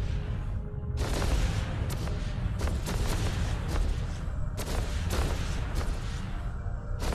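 Weapons firing in the space game EVE Online, a dense, sustained barrage of booming shots and blasts layered over a loud rumble, with repeated sharp bursts throughout.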